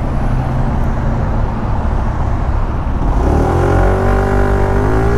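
A Yamaha SMAX 155 scooter pulls away at full throttle in busy city traffic. Steady road and wind roar gives way to a loud engine whine that climbs in pitch as it accelerates.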